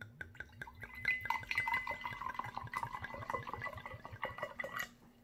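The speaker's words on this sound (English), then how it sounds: "I'm gonna see how good it pour up" White sangria wine (Lolailo) pours into a glass, a quiet trickle with a rapid gurgling rhythm and a rising, bubbly fill tone for about five seconds before it stops.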